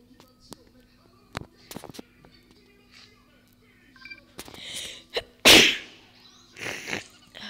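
A single loud sneeze bursts out partway through, with soft clicks and faint murmured voices around it over a low background hum.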